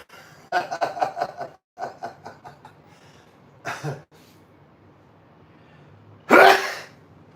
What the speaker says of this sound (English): It made me sneeze.